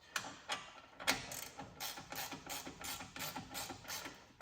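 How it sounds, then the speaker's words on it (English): ICON G2 ratchet clicking in a steady rapid run of sharp metallic pawl ticks while loosening a front hub on a 2017 Chevy Equinox, close and alone, with a few louder snaps near the start. "we want to show off our new ratchet"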